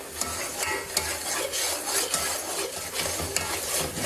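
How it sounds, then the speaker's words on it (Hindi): Milk cream (malai) sizzles in a pan as its water dries off and ghee begins to separate. A spoon stirs and scrapes through it with regular clicks over a dense, close frying hiss, and nobody speaks. "ये देख लें इसमें से वाटर ड्राई हो गया और अभी ये घी निकलना शुरू हो गया आहिस्ता आहिस्ता"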